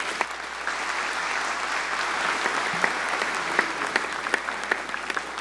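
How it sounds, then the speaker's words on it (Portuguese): An audience at a solemn ceremony applauds Colonel Mendes with steady, dense handclapping that holds at an even level throughout, with sharp individual claps standing out. "Uma salva de palmas para o coronel Mendes."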